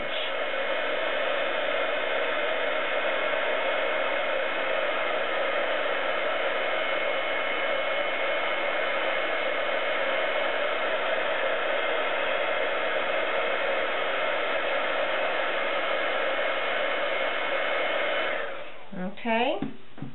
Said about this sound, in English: And then just slowly move the heat gun over your image.